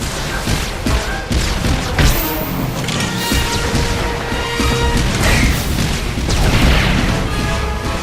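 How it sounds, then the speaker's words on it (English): Heatseeker missiles from a Mercenary in Star Wars: The Old Republic strike a turret, producing dense, continuous loud booms and crashing explosions layered with battle noise throughout. "The Mercenary fires off a few Heatseeker missiles"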